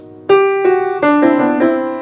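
Piano notes played in pairs ring out, several two-note chords in a short steady sequence, close and clear with no voices.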